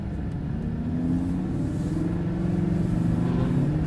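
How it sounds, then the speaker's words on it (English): A Lamborghini Huracan LP610-4 rumbles low and steady as it pulls away in first gear, the engine tone rising gently over a few seconds, heard from inside the car. "We'll click it up into first gear. And straight out of here and pull out and around to the left."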